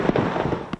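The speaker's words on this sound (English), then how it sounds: "fireworks could be seen for miles from Horace to Moorhead" Fireworks going off over a summer weekend around Horace and Moorhead, with a quick series of sharp pops and crackles close together in under a second, then a louder final bang.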